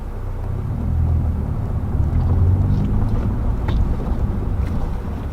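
A Nissan 370Z with a manual transmission pulls away in first gear, a low engine rumble rising gently and steady throughout, heard from inside the car with some wind buffeting.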